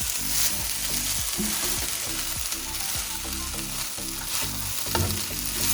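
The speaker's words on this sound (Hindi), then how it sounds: "मिक्स के लिए हमेशा 2 स्पैचुला या 2 चम्मच ले लें" Chicken fried rice stir-fried with two spatulas, a loud continuous sizzle under rapid rhythmic metal scraping and clanking against the pan, close up with no talk.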